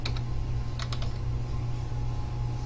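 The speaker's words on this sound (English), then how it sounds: "Now I'm going to type in my password" Password being typed on a computer keyboard at a login screen, a handful of quick key clicks in two short bursts over a steady low hum, close and fairly quiet.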